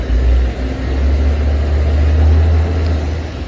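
A truck's tyres spin and slip on a slope during a hill start, with a deep, steady engine drone and rumbling wheel noise that holds throughout without pause.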